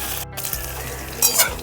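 Potatoes sizzle in a pan for a Bengali broad bean and potato chachari. The frying is steady and close, and a spatula clinks and scrapes against the pan.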